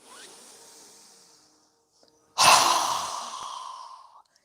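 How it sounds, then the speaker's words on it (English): During a yoga breathing exercise, one person takes a soft inhale that fades. After a pause comes a strong, forceful exhale through the nose, close and breathy, that trails off. "So go ahead and inhale."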